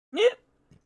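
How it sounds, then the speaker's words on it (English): A single short hiccup, close and fairly loud, with a sharp voiced onset that rises in pitch, followed after a brief pause by a faint low after-sound. "Sorry, that was a hiccup."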